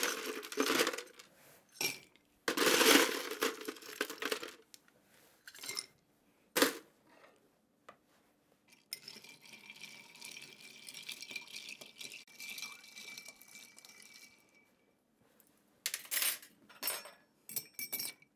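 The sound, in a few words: ice being added to cocktail glasses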